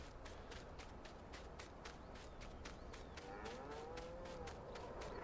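Cows moo in Farming Simulator 19, faint drawn-out calls rising over a steady background of game ambience and rhythmic ticking. The calls come toward the end, with no talking.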